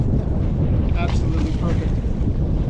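Breezy wind buffets a microphone outdoors on a boat on a cloudy day, a loud, steady low rumble with gusty swells and faint water wash.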